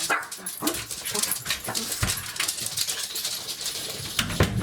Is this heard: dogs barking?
yes